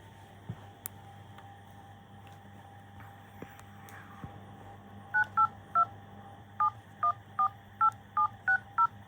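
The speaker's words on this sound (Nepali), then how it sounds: "म यसको मोबाइलबाट फोन हान्छु" A number dialed on a mobile phone keypad, a quick run of about a dozen short, evenly spaced DTMF beeps over a quiet room hum.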